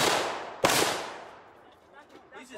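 Gunshots from a rifle or pistol fired outdoors among trees during a Fourth of July gathering, one loud sharp crack echoing off and decaying, with faint voices afterward.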